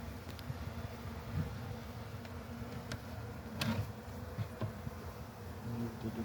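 Honeybees from a golden hive hum softly during a winter hive inspection, a faint, steady buzzing with occasional louder passes of individual bees close by and no talking.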